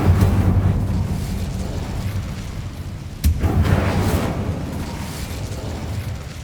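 The Incendio fire spell cast in Hogwarts Legacy: a loud fiery burst with a sharp crack partway through, over a continuous roaring, wind-like rush that fades slowly.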